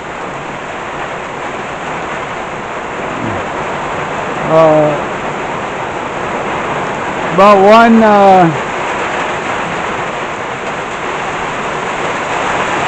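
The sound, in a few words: heavy rain pouring at noon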